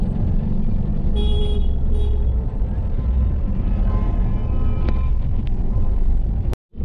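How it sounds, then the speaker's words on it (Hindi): A car in Kolkata pulls out and drives off, its engine rumbling steadily and close throughout with a few faint tonal traffic sounds, then cutting off abruptly near the end. "पहले बाहर निकल के साइड में लगता है गाड़ी को"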